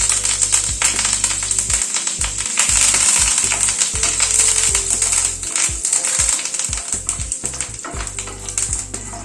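Curry leaves hit hot oil with mustard seeds and cumin on a lowered gas flame, a loud, close, continuous sizzle with irregular popping and crackling spits throughout, no talking.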